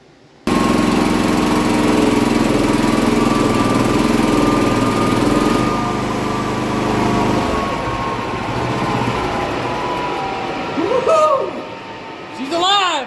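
A homemade jet engine turbine mounted on a pontoon spools up with a loud, steady whining roar and layered tones, and rising and falling pitch sweeps come in near the end.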